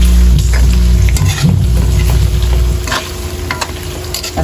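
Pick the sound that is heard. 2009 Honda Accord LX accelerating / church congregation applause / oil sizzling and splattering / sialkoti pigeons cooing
oil sizzling and splattering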